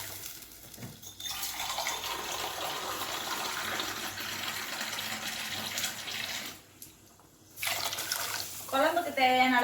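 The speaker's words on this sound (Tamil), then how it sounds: "குழம்புக்கு தேவையான அளவு தண்ணி ஊற்றி" Water pours steadily into a pot of tamarind gravy cooking with green gram and turmeric, a continuous gushing stream that stops briefly near the end, then resumes.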